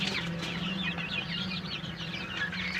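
Chickens cluck and murmur in a netted outdoor enclosure, a steady overlapping chatter of several birds at moderate distance, fairly quiet and continuous.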